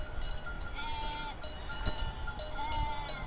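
Sheep bleating from a flock beside a forest and river in rural Poland, several overlapping calls at varying distances, with a tinkling bell and outdoor rustle underneath.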